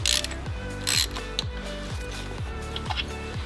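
A ratchet socket wrench clicks on an engine nut of an Audi RS3, giving quick repeated ratcheting strokes in a steady rhythm, close and fairly quiet, with no talking.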